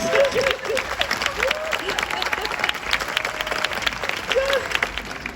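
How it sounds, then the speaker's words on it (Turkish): Audience applause on a Turkish entertainment show, a steady wash of clapping with a few voices calling out over it, continuous and fairly loud throughout. "Kocaman alkışlar"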